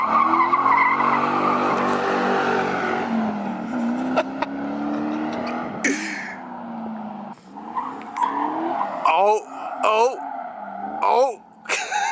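A car with a new exhaust revs and skids loudly, tire squeal and engine roar dominating early, then fading under excited voices and shouts as people talk over it near the vehicle.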